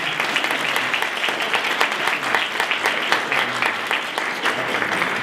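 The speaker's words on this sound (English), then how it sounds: "Let's hear it for Cap family" A crowd claps steadily and enthusiastically, dense applause filling the room without letting up.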